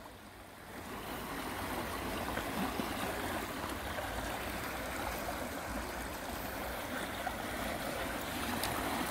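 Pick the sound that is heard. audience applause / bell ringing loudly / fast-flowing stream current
fast-flowing stream current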